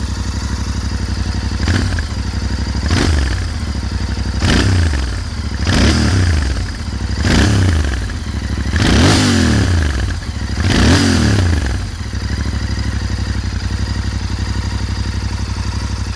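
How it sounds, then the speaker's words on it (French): Royal Enfield Interceptor 650 twin engine revving on the road in a series of about seven throttle blips, each swell rising and falling with crackling exhaust pops, over a steady idle rumble. "l'Interceptor jouit d'une très jolie bande son avec quelques petites pétarades caractéristiques"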